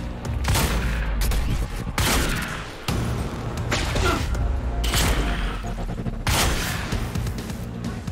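Gunfire from the Quantum Break video game crackles in heavy bursts, loud booming volleys with brief gaps between them and no talk over the shots.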